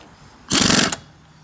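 A wheel lug nut being tightened on a car during a tire change: one short, loud burst of rapid mechanical rattling, like an impact wrench, lasting about half a second before cutting off abruptly.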